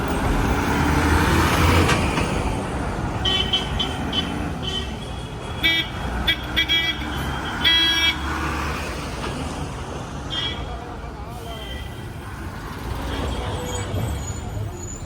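Busy new bus stand in Kozhikode: rumbling bus engines, hissing air brakes and repeated horn toots, some loud and close, over constant traffic noise and crowd murmur.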